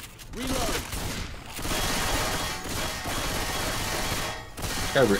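Sustained automatic gunfire in the zombie co-op shooter Left 4 Dead 2, dense rapid bursts running almost continuously at close range, with brief gaps and a voice speaking faintly underneath.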